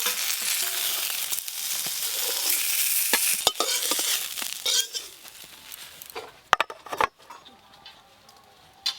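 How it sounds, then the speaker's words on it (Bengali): Brinjal slices fry in oil with a loud, dense sizzle through the first half, punctuated by clicks and clinks of a utensil against the pan, the frying fading as scattered sharp knocks take over. "এবার এই বেগুনগুলো একসঙ্গে ভেজে নেব"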